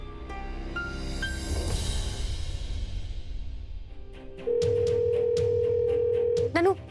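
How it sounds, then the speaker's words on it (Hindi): Steady ringback tone on a phone call sounds alone for about two seconds near the end, following a stretch of household noise and a faint voice. "फोन लग गया"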